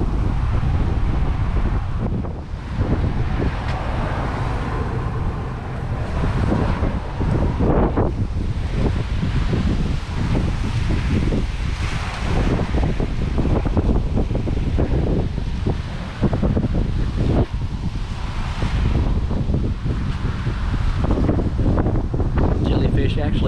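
Gusty wind buffets the microphone over rough ocean surf at Orange Beach, Alabama, as Hurricane Sally approaches, a loud continuous roar with surging waves, and a voice talks intermittently over it.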